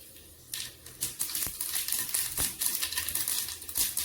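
Mustard seeds crackle in hot oil in a pan, sharp irregular pops and snaps over a bright sizzle, starting after a brief quieter moment and continuing densely.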